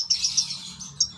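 Male lovebird sings in quick high chirps and twittering bursts, close and clear over a faint low background hum.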